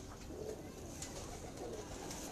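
A pigeon coos faintly in low, murmuring phrases, its soft calls repeating against a quiet, hissy background.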